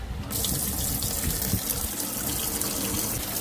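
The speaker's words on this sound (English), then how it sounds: "It's draining good now." Water running and draining through a boat's sink, a steady close rush of flowing water filling the whole stretch, with no talking.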